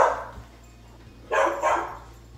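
A dog barks indoors: a faint yip at the start, then two sharp, loud barks in quick succession, all over a steady low electrical hum.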